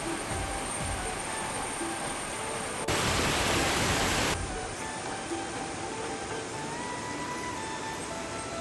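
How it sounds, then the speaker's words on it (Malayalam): A stream runs into the five-pool waterfall beside the Panchatheertha Parashakthi temple and produces a steady broadband rush throughout. A louder burst of the same noise lasts about a second and a half midway. "ഇവിടെ സൈഡിൽ ഇങ്ങനെ വെള്ളമൊക്കെ ഒഴുകുന്ന സൗണ്ടൊക്കെ കേൾക്കാം"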